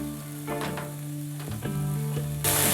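Vegetables sizzle in a pan as they are stirred, a close frying hiss punctuated by a few spatula scrapes, with a sharp surge of sizzle near the end.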